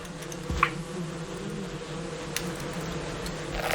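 A bee in the Valheim video game hums with a low, steady drone that holds throughout, fairly quiet and close, with a couple of faint clicks and no talk.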